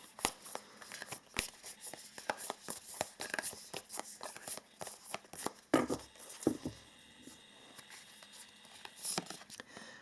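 Oracle cards being shuffled by hand in quick, soft papery bursts and flicks, quiet and close, with brief pauses between rapid runs.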